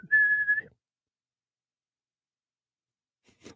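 A person whistles a single short, steady note lasting under a second, clear and close, followed by near silence and a faint rustle.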